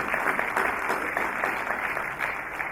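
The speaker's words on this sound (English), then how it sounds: "Ladies and gentlemen, a big round of applause for Mr. Vasu Shroff." Steady applause from an audience at a formal event, sustained and even for a few seconds with no voices over it.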